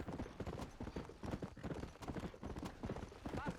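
Steady clip-clop of donkey hooves while riding in Red Dead Redemption, a quick even rhythm at moderate volume with faint game ambience.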